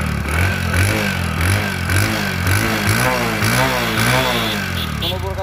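Close by, a second-hand Discover 100cc motorcycle engine idles with a steady, throbbing rumble and slight rises in revs, while someone talks over it.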